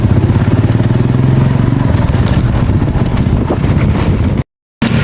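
A motorcycle engine runs close by, a loud, steady low rumble with a rhythmic chug that keeps on for several seconds before a sudden brief cutout near the end.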